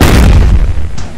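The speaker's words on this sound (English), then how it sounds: "let me break her TV" A TV being smashed in a cartoon-style crash inside a house, heard as one loud booming impact that tails off into a rumbling clatter of debris, with a brief crack near the end.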